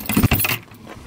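A bunch of keys jangles close by in a quick metallic rattle lasting about half a second, followed by quieter background noise.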